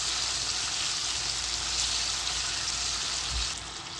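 Potatoes frying with cumin in a hot pan, a steady dense sizzle that runs unbroken and loud throughout, easing slightly near the end.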